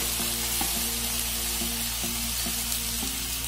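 Jute leaves (morapat shak) fry in a pan with a constant close sizzle, broken by a regular series of soft scraping stirs against the metal.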